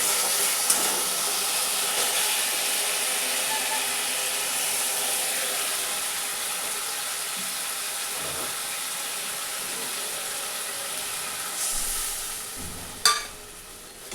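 Water poured into hot oil and spice paste in a pan for a fish curry, giving a loud, steady, close steam hiss and sizzle that runs throughout with a brief clatter near the end.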